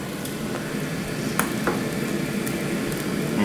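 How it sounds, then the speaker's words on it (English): Pork ribs on a grill sizzle and crackle steadily while being flipped, with a few soft clicks and taps of handling over the constant hiss, fairly close and moderate in level. "We're gonna come back over here and flip the ribs."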